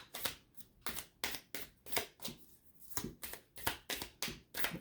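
A deck of tarot-style cards is shuffled by hand in a quiet room, giving about a dozen crisp riffling bursts in a quick, uneven rhythm, close and clear with no talking.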